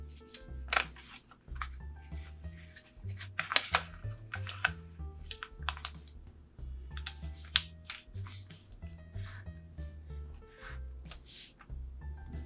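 A sheet of paper is folded into an origami clown with irregular crisp creases, rustles and taps close by, some sharper snaps among quieter handling sounds.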